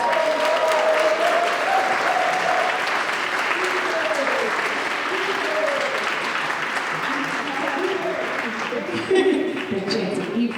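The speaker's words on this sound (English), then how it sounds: "I want to give another round of applause to all of the performers, our historians, and our city leaders in the building." Audience applause rolls on steadily for about ten seconds at an outdoor Boston 250 event on the Henry Knox Trail in Roxbury, with scattered voices mixed into the clapping.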